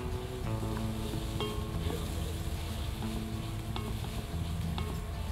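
Chopped onion and ginger cooking in a pan, a steady soft sizzle under a continuous low rumble, with a few faint tonal hums and light clinks scattered through it.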